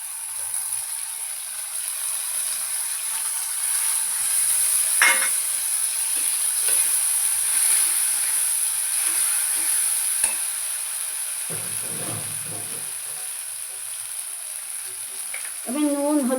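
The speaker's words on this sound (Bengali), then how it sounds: "আমি এই মশলাটা দেবো, দিয়ে এটাকে কষাবো।" Pointed gourd frying with spices in a pan, giving a steady hiss of sizzling oil with occasional scraping and stirring clatter, plus a brief louder stir near the end.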